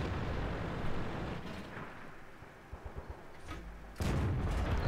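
A tank cannon fires a shell in World of Tanks from an M4 Sherman: a loud, broad rumbling roar with a heavy boom at the end and a few softer thuds before it, alone without voices.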